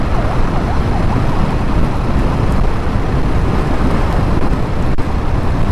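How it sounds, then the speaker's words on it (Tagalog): An ambulance siren wails through loud, steady road and engine rumble, heard from inside a moving vehicle. "Ayan, may ambulansya, may emergency."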